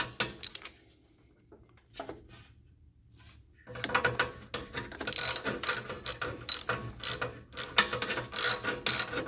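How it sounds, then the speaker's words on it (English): A ratchet with an 8mm socket turning a brake bolt on a Victory Cross Country motorcycle, a few quiet clicks at first, then fast repeated loud ratcheting strokes close up with metal knocks, no talk. "Ratchet's hitting the muffler"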